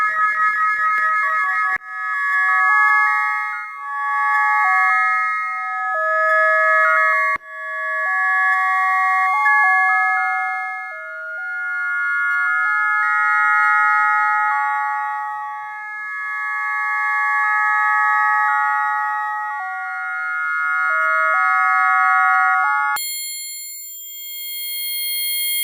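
A SonicLAB Fundamental synthesizer patch built on very fast envelopes, played slowed down: sustained, clean electronic tones stepping between pitches in a shifting melodic line, loud and alone, ending with a brighter, higher cluster.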